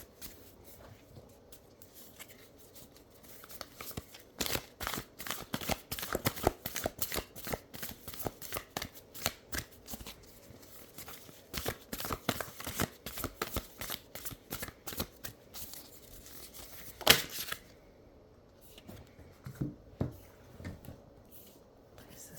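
Playing cards are handled and shuffled in a close, dry patter of rapid riffling bursts with short pauses between, one sharp snap near the end, and no clear talk.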